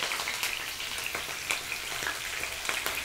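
Cumin seeds and green chillies frying in hot oil in a pan, a continuous close sizzle with scattered crackles and pops running throughout.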